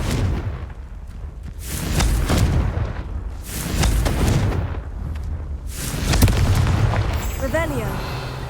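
Confringo blasts from a Harry Potter video game, several booming bursts recurring about every two seconds, loud and close, with a voice speaking under them.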